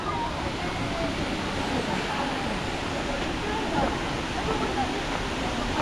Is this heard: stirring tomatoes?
no